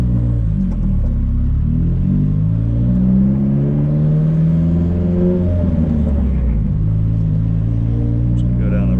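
A drift car drives down a residential street toward a dead end, its engine a loud, steady rumble with shifting revs throughout, and someone talks over it.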